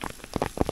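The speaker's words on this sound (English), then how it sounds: "And now it's hailing." Hail falling outdoors during a hike into Colca Canyon, Peru, heard as a brief scatter of sharp, irregular taps and patters, fairly close, with no voices.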